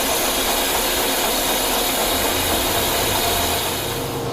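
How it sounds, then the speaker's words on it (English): A lathe takes light finishing passes with a 431 insert on a large hydraulic tube nut, reduced feed and raised spindle speed, giving a steady, even broadband hiss and machine hum throughout with no talk. "Here I'm doing my finishing passes. Backed off on the feed, increase the RPM."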